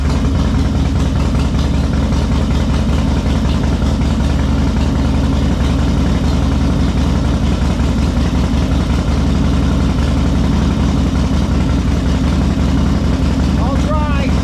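A 2005 Harley-Davidson Heritage Softail Deluxe idles steadily after a fuel valve repair, a loud, close, continuous low engine rumble with an uneven loping pulse throughout.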